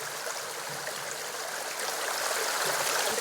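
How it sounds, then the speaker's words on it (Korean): A clear stream rushes through a wooded mountain valley on a hiking trail, a dense, steady wash of flowing water that is loud and close, with no voices. "이제까지 간간히 들리던 도로의 소음도 들리지 않고 맑은 물소리만이 푸른 숲 속에 울려"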